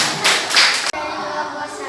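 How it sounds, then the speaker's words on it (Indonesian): A classroom group claps for the first group to present, a short burst of hand clapping that cuts off abruptly, followed by softer room noise and scattered light taps. "Beri tepuk tangannya untuk kelompok 1."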